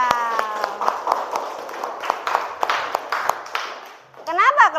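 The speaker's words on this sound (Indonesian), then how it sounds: "Beri tepuk tangan untuk kelompok hijau." A classroom of students claps for the green group in scattered, uneven bursts, with children's voices rising through the clapping and a brief lively shout of voices at the end.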